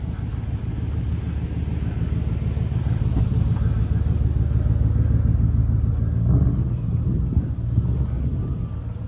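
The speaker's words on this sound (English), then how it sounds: "Ooh, Hellcat." A Dodge Hellcat rumbles steadily at a fundraising car cruise, its deep low engine tone loud and close throughout, with a brief surge of revving near the end.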